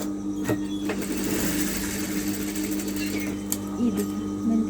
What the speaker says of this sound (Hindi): ये देखिए मैंने तिरछा सिलाई किया